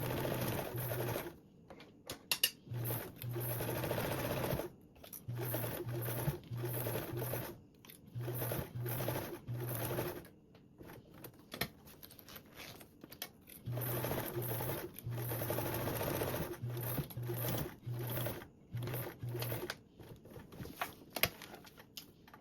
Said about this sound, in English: Now we can sew with a 1/4 seam allowance